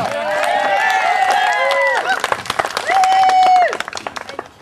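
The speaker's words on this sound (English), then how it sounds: "Big round of applause for Sally." Wedding guests at a reception applaud for the bride during the best man's speech, brisk clapping under loud, drawn-out whooping cheers from several voices.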